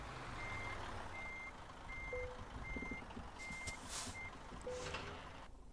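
MAN truck reversing to couple a trailer in Euro Truck Simulator 2, steady evenly spaced reversing beeps over a low engine rumble, with a brief air hiss near the end.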